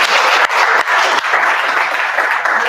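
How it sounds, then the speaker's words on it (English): A dense, steady round of applause from an audience at a youth meeting in Lira City, loud and close, with many hands clapping continuously for nearly three seconds. "I would request you to give them one more round of applause"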